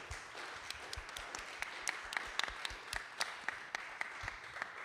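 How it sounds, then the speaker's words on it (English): An audience at a book launch clapping for the authors, a fairly quiet, brisk round of applause from a modest crowd. "let's give another round of applause for our amazing authors"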